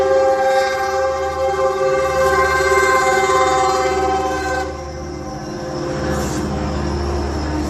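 A train passes nearby, a loud steady rumble of railcars carrying a sustained horn-like tone, alone with no talk, easing slightly in the last seconds.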